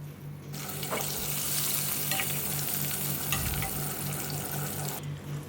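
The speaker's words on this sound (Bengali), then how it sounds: "চাপটা ভেজে নিলাম।" A chicken chap sizzles and fries in a pan with hot oil and tomato sauce: a steady, loud, close crackle with scattered stirring clicks, running evenly for several seconds before stopping abruptly.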